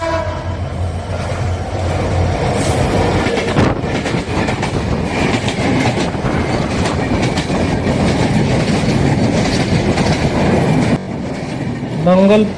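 A train rumbles loudly through Mangalpur railway station in Dinajpur, Bangladesh, wheels clattering over rails for several seconds, with a short horn blast near the end.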